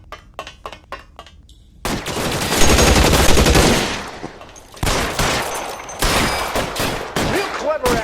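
Rapid bursts of gunfire from a shootout in L.A. Noire on PS4: sharp cracks at first, then dense, loud volleys that overlap and come in waves.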